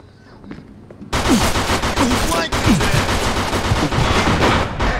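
Rapid bursts of gunfire as several men open up on an armed man, loud and close, a dense fusillade of overlapping shots after a brief quiet start, with scattered shouts mixed in.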